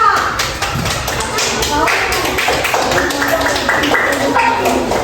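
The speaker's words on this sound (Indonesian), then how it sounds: "Beri tepuk tangan untuk kelompok 2." A primary school classroom gives a round of applause for a group of pupils, with quick, uneven clapping from many hands running under children's chatter and voices.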